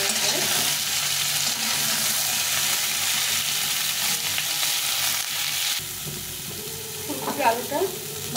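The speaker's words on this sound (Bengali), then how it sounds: "এখন আমি এই ফুলকপিগুলো দিয়ে দেবো" Cauliflower florets are added to a pan of fried potatoes and sizzle loudly in hot oil, a dense continuous hiss that eases slightly partway through, with a few clinks of stirring near the end.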